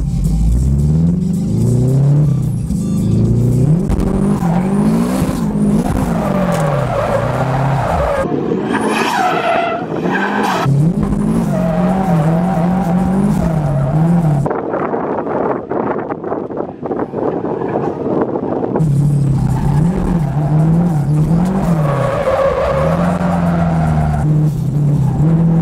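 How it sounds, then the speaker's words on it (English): A turbocharged Honda S2000 drifts, its engine revving hard and tires skidding loudly in long sustained screeches, with wind buffeting the microphone and a short quieter lull midway. "this is so much easier to drift now it has power"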